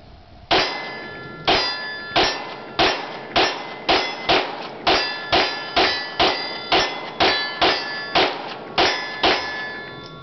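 A brand-new Smith & Wesson M&P 2.0 9mm pistol fired at a steel target: about eighteen sharp metallic clangs at a steady, fairly quick pace, each ringing briefly, with no talking.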